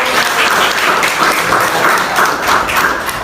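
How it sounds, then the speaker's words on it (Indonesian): A class of students applauding in a classroom during a geography lesson, steady dense clapping throughout at close range, loud and continuous without talk. "beri tepuk tangan"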